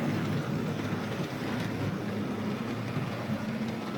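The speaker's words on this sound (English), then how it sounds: "this loco is going to be a little bit noisy, but the wheels are made out of plastic" Model train locomotive with plastic wheels running on track, a continuous close, fairly noisy rolling whir with a low rumble, steady for the whole stretch and no talking.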